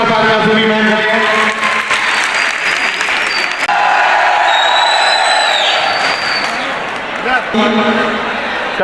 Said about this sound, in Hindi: जोरदार तालियां सुनी मैम के लिए